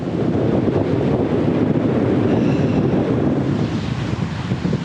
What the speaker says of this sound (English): It's windier over this way, got a bit of a westerly wind blowing in, it's a shocker.